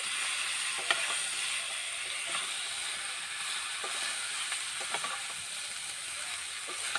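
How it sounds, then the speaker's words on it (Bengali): Potatoes and cauliflower frying in a pan with turmeric and salt, giving a steady, close sizzle broken by occasional light clicks and scrapes of stirring, moderately quiet and without talk. "আলু আর ফুলকপিটা আমি খুব ভালো করে ভেজে নেব।"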